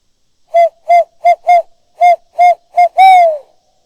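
A person imitating owl calls in daylight outdoors, eight loud, close hooting coos in an uneven rhythm, the last one drawn out longer and sliding downward.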